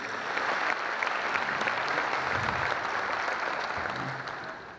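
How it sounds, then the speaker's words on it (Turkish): Applause for the Galatasaray coach, technical staff and players at a club gathering, a crowd clapping steadily at moderate volume before tapering off at the end. "Sizden Okan hocamıza, teknik ekip ve futbolcularımız için kuvvetli bir alkış rica ediyorum"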